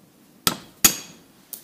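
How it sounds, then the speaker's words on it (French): Hammer blows driving a cold chisel into metal on a prototype holder: three sharp metallic strikes, the second ringing brightest, close and unaccompanied by voices. "Je vais essayer avec un burin."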